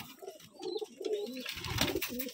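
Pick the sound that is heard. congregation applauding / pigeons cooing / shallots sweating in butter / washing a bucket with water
pigeons cooing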